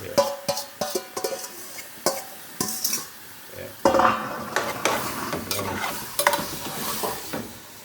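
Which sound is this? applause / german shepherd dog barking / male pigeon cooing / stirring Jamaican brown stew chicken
stirring Jamaican brown stew chicken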